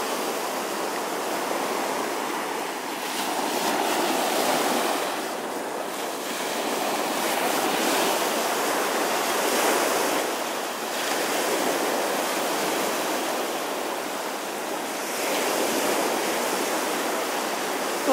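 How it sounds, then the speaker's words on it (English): Ocean waves at Temple Beach wash in as a steady broadband rush, swelling and easing in slow surges every few seconds, with no voices. "Well, this is Temple Beach, and Hukilau is down there"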